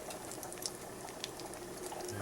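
Chopped bacon hits a hot pan and sizzles, a soft continuous crackle with a few sharper pops, fairly quiet and close with no talking.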